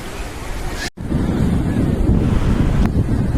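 Sea waves break on the shore in a loud, continuous roar and wash, heavily buffeted by wind on the microphone, with a brief dropout near the start.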